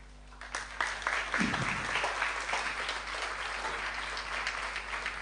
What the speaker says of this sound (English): We're also applauding to Rabindra Swarup Prabhu